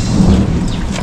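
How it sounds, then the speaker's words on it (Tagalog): A brief, loud low rumble of thunder with rain hissing around it. "Yan, kulog."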